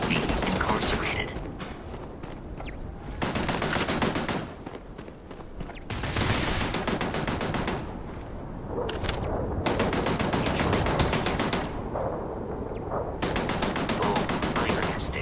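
Machine guns fire in a video game, with sustained bursts of rapid gunfire alternating with brief pauses throughout, loud and close, and a voice occasionally talks underneath.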